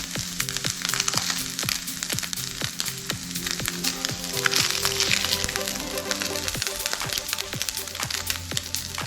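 A fish pizza on a wrap fries in a pan with a steady, close sizzle, broken by repeated crackles and pops throughout, and no voices.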